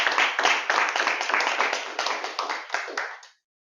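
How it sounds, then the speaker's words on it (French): Audience applause at a Toastmasters club session, a dense burst of many hands clapping that stays steady for about three seconds and then stops abruptly. "Encore une fois, soulignez ça d'applaudissements."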